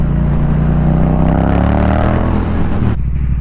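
A Yamaha XSR700 with a loud Akrapovic carbon exhaust accelerates hard up close, its rising engine drone building steadily before cutting off abruptly to a quieter idle near the end.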